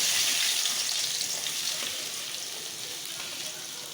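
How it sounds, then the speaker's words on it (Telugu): Onions frying in hot oil for a curry, a loud bright hiss of sizzling that starts strong and slowly eases, steady and close with no talk over it. "ఇప్పుడైతే ఎర్రగడ్డలు అయితే వేసేసుకుందాం."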